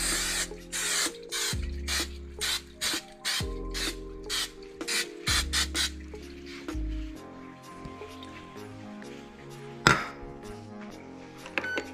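Short bursts of spray hiss repeatedly onto sushi before air frying, close and fairly loud, with mechanical clicks and rubbing sounds between them.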